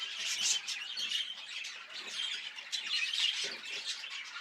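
Budgies at a budgie stud chirp and chatter continuously in a busy, overlapping flock of bright, rapid tweets and squawks, fairly close with no voices.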